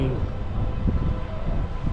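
Guadalupe turn freight train rolling past trackside, a steady low rumble and rattle of cars that stays loud and continuous throughout.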